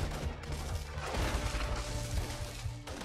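Gunfire in the video game inFAMOUS Second Son comes as a dense, continuous barrage of shots and crashing impacts that stays loud throughout.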